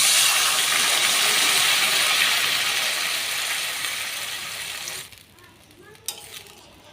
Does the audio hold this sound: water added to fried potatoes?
yes